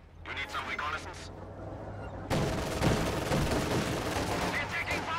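Gunfire in the World War II strategy game Company of Heroes, a dense rattle of shots and blasts that swells partway through and stays loud, with other game sounds mixed in.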